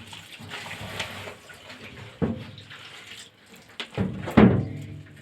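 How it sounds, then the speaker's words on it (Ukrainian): Water splashes and gurgles as it is poured out of a rabbit cage during cleaning, with a few sharper sloshing bursts toward the end; no one speaks. "Далі зливаємо воду."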